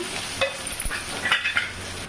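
Onions and curry leaves sizzle steadily in hot oil, with a few clinks and scrapes of a spoon stirring the pan.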